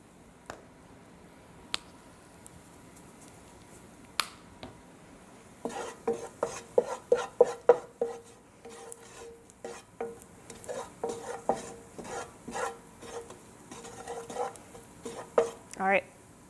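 A spoon stirs a flour mixture in a pan, giving irregular bursts of close scraping and clicking strokes over a low background, with quieter isolated taps beforehand.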